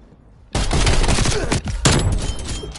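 A DMR rifle in Call of Duty: Black Ops Cold War fires in a loud, close burst of rapid cracking shots after a short quiet moment, with a brief gap before the shooting starts again.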